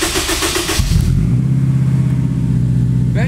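A turbocharged Honda S2000 engine, previously running on only three cylinders, rises in a loud rev from idle, then settles into a steady, throaty drone close by with no talk.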